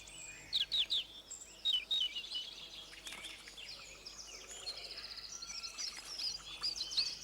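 European robin song in a garden setting: short bright phrases of clear warbling notes repeating over several seconds, faint and at moderate distance against a quiet background.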